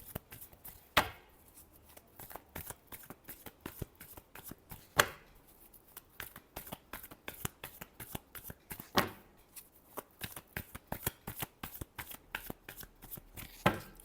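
Tarot cards are shuffled by hand in quick bursts of crisp riffling and slapping, close and fairly quiet, with sharper snaps every few seconds.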